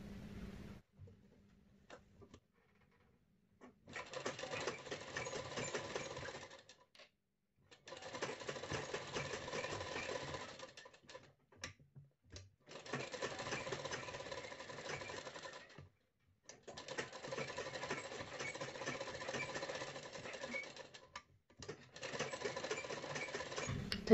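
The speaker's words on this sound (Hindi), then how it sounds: "तो इस तरह सिलाई लगा दी है, अब इसे कट कर लेना है।" A sewing machine stitches a blouse neck in five rapid, buzzing bursts of a few seconds each, separated by short pauses, close and fairly quiet with no talk.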